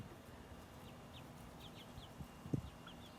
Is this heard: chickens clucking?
yes